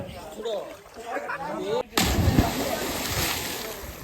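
A loud splash as someone jumps into a well, followed by churning and sloshing, with people talking and shouting before and during.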